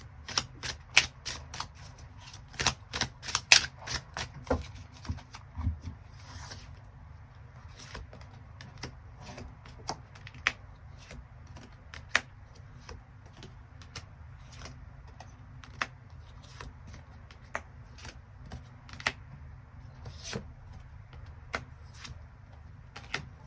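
Tarot cards being shuffled and drawn by hand, a flurry of crisp snapping card riffles early on, then sparse soft clicks and flicks against a quiet room background.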